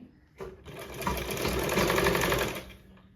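A sewing machine runs steadily for a few seconds, stitching a cross piece onto a blouse neckline, its rapid mechanical whirr rising in close after a brief pause and then fading out, with no talking.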